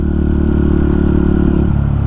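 A motorcycle engine runs loud and close on a city street in Cagayan de Oro, with a rough mid-range growl that swells slightly as it revs, continuous and without pauses.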